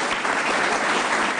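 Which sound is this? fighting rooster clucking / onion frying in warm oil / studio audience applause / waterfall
studio audience applause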